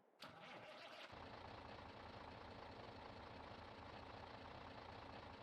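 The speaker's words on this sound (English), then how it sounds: "wants to start the engine, so let's do that and just listen to see what the engine sounds like" A Kenworth W900 truck engine in Farming Simulator 22 cranks briefly and catches, then settles into a steady, rumbling idle that continues loud and close.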